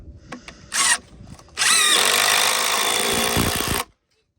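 A power drill driving a screw into the wood of a sawhorse gives a few short bursts, then a long, steady, loud whir close by before it stops.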